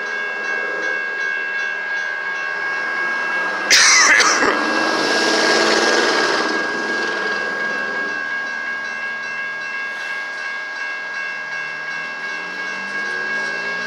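A Union Pacific freight train rumbles along the rails in Sacramento, California, with a steady high-pitched whine, and a sudden burst of loud clatter passes near the middle before the sound settles again.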